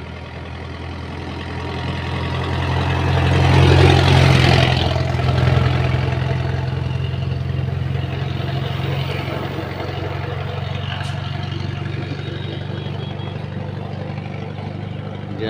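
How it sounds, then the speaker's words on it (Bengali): Traffic on a highway running through a village, with engines rumbling steadily and one vehicle swelling louder as it passes nearby, then a continuous drone of road noise. "Highway road."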